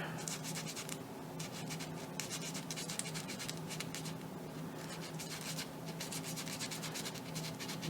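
A balsa wood propeller for a rubber-powered indoor model airplane is sanded by hand while it is turned: soft, continuous rasping strokes in a quick, even rhythm, close up and fairly quiet, with no talking.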